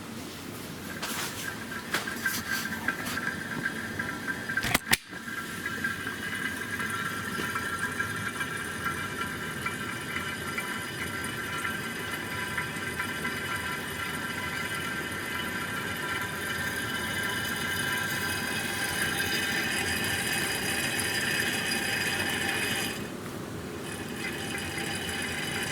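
Oil extraction pump on a snow blower oil change, a steady whirring suction with a gurgling, squealing hiss as the oil runs out, continuous and close with a brief clunk early on.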